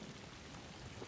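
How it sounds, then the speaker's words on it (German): Rain falls steadily in the video game Beast of Reincarnation, a brief, soft, even patter of drops with no voices over it. "Ja, es regnet halt."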